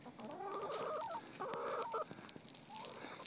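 Rooster or chickens calling close by, loud clucking and crowing-like bursts in two main phrases with a shorter call at the end, no talking.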